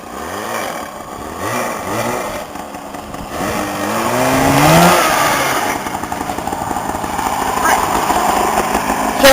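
A lawn tractor engine racing at a 2008 lawn tractor race, droning close by and revving up to a louder peak midway before settling into a rough, steady run, with voices faintly underneath.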